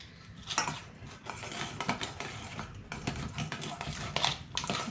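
Potato salad is tossed in a camp cooking bowl outdoors, with repeated clinking and scraping of a utensil against the bowl in an uneven rhythm, close and moderately loud, and no talking.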